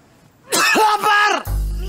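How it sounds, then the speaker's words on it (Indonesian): A strained, gruff cough that sounds angry rather than ordinary, a short voiced burst with a growling, shout-like quality, followed by a low rumble. "Batuknya aneh banget. Kayak orang marah."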